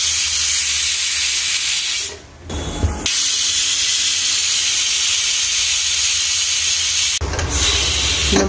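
A pressure cooker vents steam in a loud, steady hiss with a couple of short breaks as the whistle pulses, heard up close in a home kitchen during cooking of a chow chow and beetroot subji.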